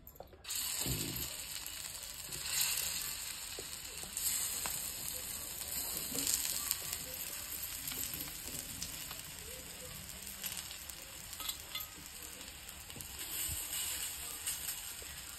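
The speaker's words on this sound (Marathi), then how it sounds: "थोडं थोडं त्याला चांगलं फ्राय करून घेते।" Steady sizzling and crackling of fasting-style vada frying in hot oil on a griddle, close and continuous, with occasional small clicks and pops.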